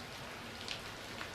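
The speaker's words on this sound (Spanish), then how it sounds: "Empezó a llover y comenzó el tiempo de las lluvias." Rain falls as a steady, soft hiss, faint and even, with a couple of slightly louder patters and no voices.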